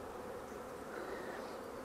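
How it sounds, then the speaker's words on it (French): Honeybees swarm over an open beehive frame during a hive inspection, making a dense, steady buzzing drone that stays close and even for the whole moment, with no voices. "ça c'est des abeilles"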